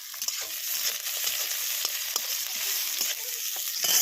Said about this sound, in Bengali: পেঁয়াজটাকে আমি পুরোটাই সুন্দর করে ভেজে নেবো